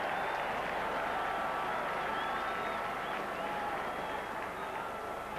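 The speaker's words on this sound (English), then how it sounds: "The Pontypool crowd say yes." A Pontypool rugby crowd at a cup tie roars and applauds a pressure kick, a dense, steady wall of cheering and clapping that holds loud from start to finish.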